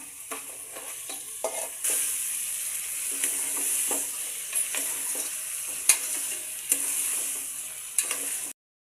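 Goat head and leg curry with onions, turmeric and spices sizzles steadily in hot oil while a spoon stirs it with irregular scraping knocks, close and without talk, ending abruptly.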